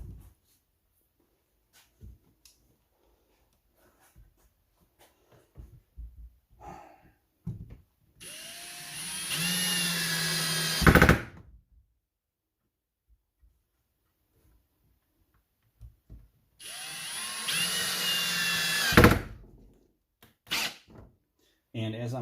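Power drill driving screws into a wooden guitar body, two sustained whirring bursts of about three seconds each, each ending in a sharp loud jolt as the screw seats, with quiet gaps between.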